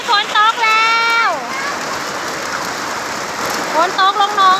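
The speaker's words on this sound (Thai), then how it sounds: "ฝนมาแล้ว ฝนตก" Heavy rain pours steadily during a storm in Laos, a dense continuous hiss of falling water, with voices calling out over it at the start and again near the end.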